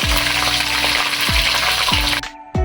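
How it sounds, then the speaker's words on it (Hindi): Loud, steady sizzling of chicken frying in hot oil for Shinwari karahi, with a few soft clinks of a utensil against the pan. The sizzle drops out briefly near the end. "ऑयल में पहले हम चिकन को अच्छी तरह फ्राई करेंगे।"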